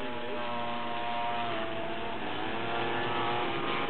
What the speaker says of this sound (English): There's a slow flyby.